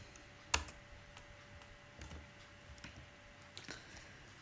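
A single sharp keypress on a computer keyboard while working in Tally accounting software, a crisp click near the start followed by a few fainter key taps over a quiet background hum.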